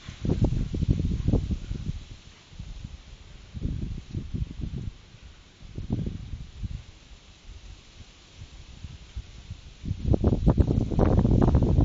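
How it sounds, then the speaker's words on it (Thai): Wind gusts in uneven surges around an outdoor biomass stove burning whole, unsplit logs. The low rushing roars build, fade and return, growing strongest toward the end. "ปล่อยไว้เฉยๆไม่ต้องเป่าเลยครับ คนไม่ต้องเป่าครับ มีลมเป่าช่วยครับ"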